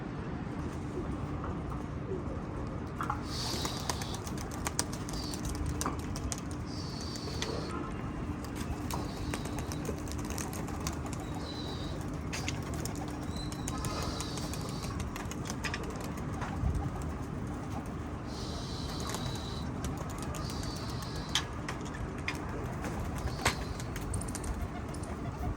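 Pigeons at a pigeon club coo in repeated soft, fairly faint phrases over a steady low background hum, with scattered small knocks and rustles and no clear talk.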